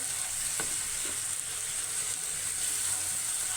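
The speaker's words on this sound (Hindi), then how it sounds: "टमाटर और हरी मिर्चें ये भी हमने डाल दिया। अगेन भूनेंगे इसको" Tomato puree and green chillies fry in a pan with a steady, dense sizzle throughout, close and fairly loud, broken by a couple of faint utensil taps near the start.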